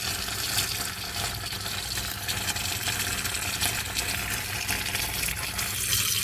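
A kitchen tap runs steadily while rice is rinsed, a continuous splashing water flow into a sink that stays close and fairly even throughout, with no one speaking.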